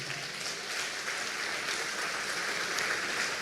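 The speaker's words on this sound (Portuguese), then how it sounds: "pode aplaudir a Jesus" Church congregation applauding during a sermon, a soft, continuous patter of many hands clapping that sounds somewhat distant.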